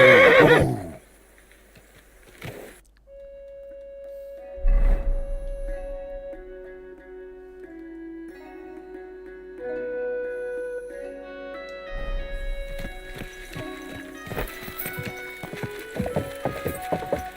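In the medieval video game Kingdom Come: Deliverance II, a horse gives a loud whinny and its hooves clop on the ground, amid sustained tonal game sounds and a busier burst of hoofbeats and clatter toward the end.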